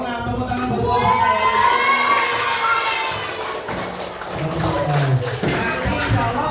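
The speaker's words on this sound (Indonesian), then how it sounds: "Tepuk tangan buat kelompoknya." Schoolchildren in an elementary classroom cheer and clap for a group after its score is announced, a loud, lively burst of young voices shouting over scattered clapping throughout.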